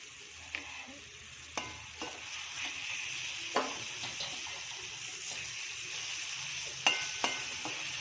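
Chili sauce stirred into fried tomatoes in a pan, a quiet sizzle under repeated scraping and clacking of a spoon against the pan, with a few sharper knocks spaced through the stir.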